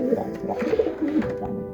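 Soft, low racing pigeon cooing repeats in short throaty phrases, close by, with faint rustling in the background.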